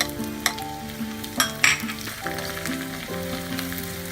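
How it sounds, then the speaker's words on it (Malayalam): Onion tipped into grated coconut frying in coconut oil, for kalathappam, sizzles steadily up close, with a few sharp scraping stirs of a spoon across the pan. "ഇതിലേക്ക് ഉള്ളി ഇട്ട് കൊടുക്കാം."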